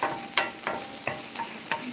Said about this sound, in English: I'm just going to saute these a little bit